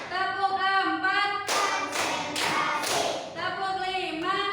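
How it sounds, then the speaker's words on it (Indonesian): A classroom group claps hands in a counted pattern, with several sharp bursts of clapping between stretches of children's voices chanting along. "Tepuk 1, tepuk 2, tepuk 3, tepuk 4,"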